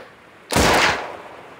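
A single sharp gunshot in Melon Playground, a loud close crack with a short noisy decay tailing off over about half a second.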